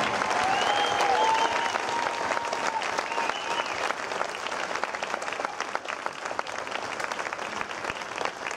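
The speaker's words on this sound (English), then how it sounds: "one more big round of applause for the Trojan Marching Band" Concert audience applauds a high school marching band at a band show, a steady wash of many hands clapping throughout, with faint voices or cheers mixed in.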